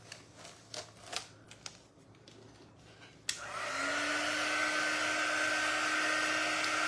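A few light taps and handling knocks on a craft apple orchard project, then a hair dryer switches on with a click and blows with a steady loud whine for the remaining seconds, no voices.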